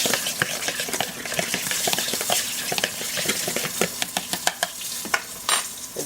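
A utensil stirring a seitan mixture in a bowl, with quick, uneven clicks and scrapes close up over a faint background hiss, and no voices.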